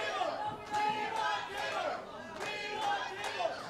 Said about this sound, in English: The crowd wants tables.